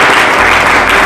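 A church congregation clapping together, a dense, loud burst of continuous applause filling the room for about a second, with no voices.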